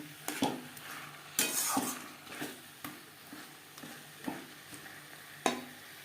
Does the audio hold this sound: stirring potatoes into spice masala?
yes